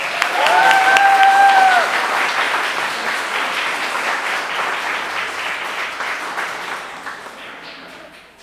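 Audience at a creative writing awards event breaking into loud, sustained applause, with a brief whistle near the start, swelling quickly and then slowly thinning over several seconds.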